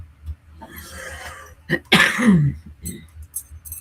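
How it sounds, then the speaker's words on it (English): A single loud, harsh cough bursts out close by, with faint breathy sounds and a brief throat noise around it. "didn't mean to cough in your ear"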